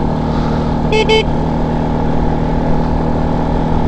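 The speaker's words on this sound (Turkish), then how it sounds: "bir korna yapıp selamlaşalım" A short double horn beep, two quick toots around the one-second mark, over a steady loud engine drone from a Mondial SFC Mini 50cc motorcycle on the road.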